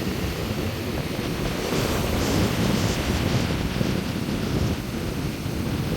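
Surf rolling onto a shore along a fishing coast, a steady broadband wash of breaking waves with gusty wind buffeting the microphone throughout, loud and continuous with no voices.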